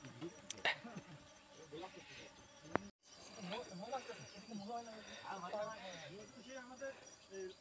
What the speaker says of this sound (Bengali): সব রকম মধুর মাছি এখানে দেখা যাচ্ছে মধু সংগ্রহ করতে।